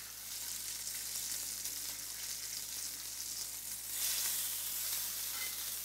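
Prawns stir-fry in a hot pan, a steady bright sizzle and crackle that swells louder partway through over the heat being turned up slightly, with no voices.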